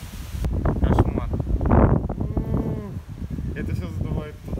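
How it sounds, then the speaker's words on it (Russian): Wind gusting at a cliff edge above a gorge at a cave city, buffeting the microphone with loud rumbling roar while a person talks over it. "Какой ветер сейчас?"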